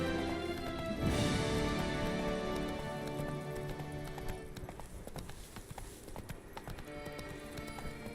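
Roach, the horse in The Witcher 3, gallops with steady, close clip-clop hoofbeats, a whinny-like burst near the start and game music underneath throughout.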